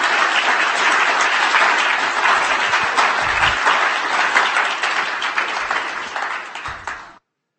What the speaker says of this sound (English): give Luke Robluski, Carl, and Wendy one more round of applause